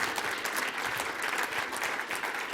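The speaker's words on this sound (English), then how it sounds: "Round of applause for them." Steady, dense applause from a crowd, many hands clapping continuously at an even level with no voices standing out.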